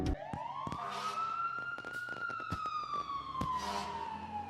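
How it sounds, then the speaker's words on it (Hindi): A fire brigade siren wails outside in one long, slowly rising and falling tone, steady and fairly distant, with sharp clicks and knocks nearby and no talk. "बाहर वो फायर ब्रिगेड, कुछ हुआ है क्या?"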